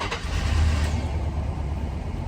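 An old V8 farm truck engine cranks and catches, settling into a loud, steady low rumble close by after a brief burst at the start.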